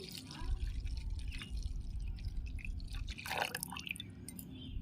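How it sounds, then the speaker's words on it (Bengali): Milk poured and stirred into mango pulp for a mango lassi, with wet dripping and trickling sounds over a steady low hum that holds through the clip, and a brief louder splash of liquid near the end. "আমের মধ্যে আমি দুধটা মিশিয়ে দিচ্ছি"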